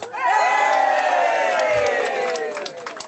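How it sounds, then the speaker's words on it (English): A crowd at an outdoor Christmas carol gathering cheers and whoops for the band, with sustained high voices ringing out loudly for about three seconds before tapering off. "I know you're clapping at the back there"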